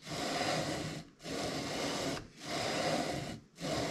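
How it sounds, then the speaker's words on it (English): A lapping tool rubbed back and forth inside Ruger 10/22 scope rings, giving steady rasping strokes about a second long with brief pauses where the direction reverses. "now I'm going to start lapping it. You just move this back and forth."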